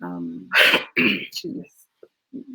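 A loud, explosive sneeze bursts out after a short vocal lead-in, followed by a few quieter breaths and murmurs nearby.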